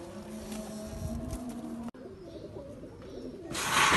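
A large pigeon coos in low, soft repeated calls close by, over a faint background hum and a brief rush of noise at the end.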